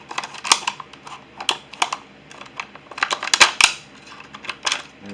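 Repeated irregular crunchy snips and crackles of scissors cutting through a plastic water bottle along a marked line, close up and fairly loud, with no voices.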